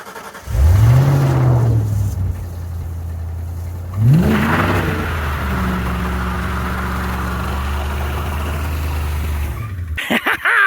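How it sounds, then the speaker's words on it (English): A Ford Fox body Mustang roars through a burnout, the engine sweeping up in a loud rev, dropping, then climbing again into a long sustained high-rpm drone close by, with no talking. "you know we couldn't end this video without a burnout"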